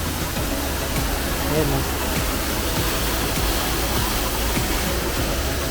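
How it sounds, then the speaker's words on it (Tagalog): Indoor waterfall at Sea Life Bangkok aquarium, a loud, steady broadband rush of falling water filling the whole stretch, with a person speaking briefly over it. "And may waterfall sila dito."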